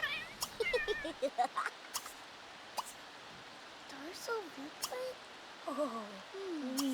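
A cat in The Sims 3 gives several short, rising meows across a faint game backdrop with soft ambient clicks, the calls moderately near and spaced apart.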